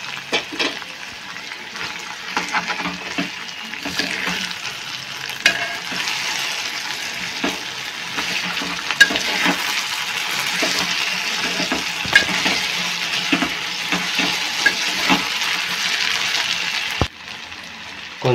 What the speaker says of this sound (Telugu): ఒక 10-15 నిమిషాల పాటు నూనెలో మంచిగా వేగే విధంగా చూసుకోవాలి